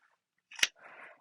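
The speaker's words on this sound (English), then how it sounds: "now I'm going to just trim the excess zipper pocket, the hidden zipper pocket lining piece and the zipper tabs" Scissors make one quiet, crisp snip through fabric while trimming the lining of a hidden zipper pocket and the zipper tabs on a sewn triple-zip bag, followed by a faint rustle.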